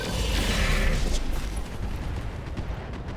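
Mech weapons firing in the video game Roguetech, a continuous loud rumbling barrage with crackling bursts and a mechanical whine, dense and close throughout with no talking.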